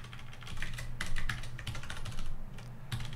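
Fast, steady clacking of keys on a computer keyboard as someone types code, close and clear, with bursts of keystrokes and brief pauses, no talking.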